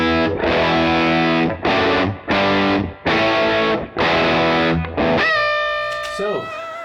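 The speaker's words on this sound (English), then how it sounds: "The bridge pickup does sound quite okay though, especially when going for a bit higher gain tones." A Squier Bullet electric guitar played through its bridge pickup with high-gain distortion, several loud chugging chords separated by short gaps, then a ringing chord that sustains and slowly fades.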